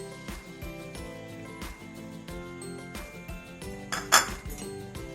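Metal spoon clinks and scrapes against a pot while stirring chicken curry with boiled potatoes, repeated close clanks over a faint background hum.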